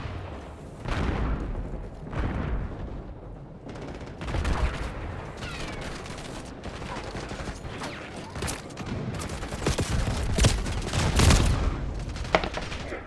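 Grenade explosion amid dense gunfire in a first-person shooter game on a cramped map, bursts of shots and booms layered continuously at loud volume.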